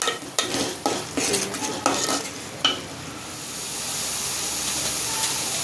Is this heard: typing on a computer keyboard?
no